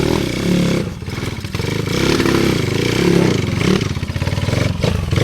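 Yoyo's motorcycle engine drives along a dirt trail, a loud, steady mid-pitched drone with rising and falling revs and clattering over rough ground, close and continuous throughout.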